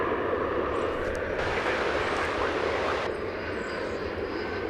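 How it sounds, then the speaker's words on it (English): Engine roar of an Embraer 175 regional jet departing DFW Airport, a steady broadband rumble that holds at moderate distance and swells briefly in the middle, with no voices over it. "That is Flight 3998, an Embraer 175 off to Austin,"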